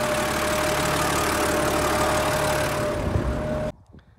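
A large tractor engine labours in a wet field during barley sowing, a loud, close, continuous diesel rumble with a steady drone that cuts off abruptly near the end, leaving brief quiet.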